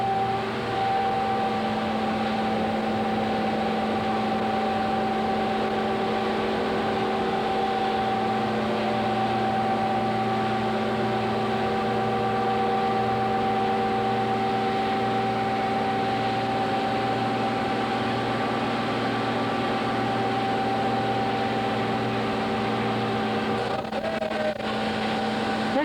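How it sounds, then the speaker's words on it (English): Steady mechanical drone of a mill gearbox running in operation, with constant low tonal hum and layered harmonics held for the whole stretch, a brief shift near the end, no talking. "The noise you are hearing is from the gearbox."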